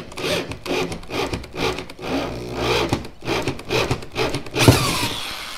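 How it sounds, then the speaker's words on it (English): A screw being driven through soft aluminum tubing on a jon boat conversion, giving repeated grinding, rasping bursts in steady pulses at close range, with no talk over it. "Now we just gotta see how the screw does screwing through metal."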